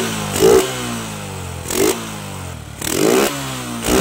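A gasoline engine with a worn spark plug is adjusted at idle, blipping up in three sharp revs that fall back to a steady, clattering idle, close and loud.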